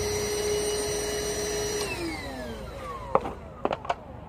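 A powerful suction machine runs with a steady roar and a whine that drops in pitch as it winds down. A few sharp clicks and knocks follow near the end, recorded close with no talking.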